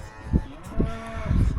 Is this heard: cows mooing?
yes